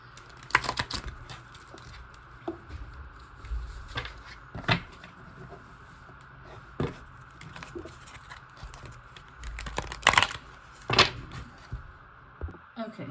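Tarot cards shuffled in a series of soft riffling bursts and crisp slaps, fairly close and moderately loud, with quiet pauses between the shuffles and no talking.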